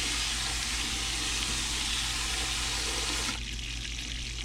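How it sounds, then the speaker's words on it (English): A garden hose sprays steadily onto shoveled gold-bearing tailings before sluicing. The rushing water is loud and close, with a continuous hiss that drops noticeably near the end, and there is no talking. "I'll get my hose so I can wet my material down"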